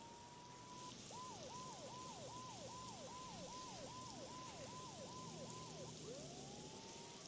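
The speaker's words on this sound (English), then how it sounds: "Mona must have heard the sirens, too." Police sirens wail in the rain in the video game Max Payne 2, a rapid repeating yelp giving way to a rising wail, faint and distant over steady rainfall hiss.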